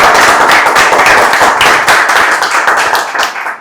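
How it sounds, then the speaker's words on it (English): A big round of applause at a Toastmasters club meeting, dense steady clapping from a room of members that carries on for several seconds before thinning out toward the end. "one big round of applause for him."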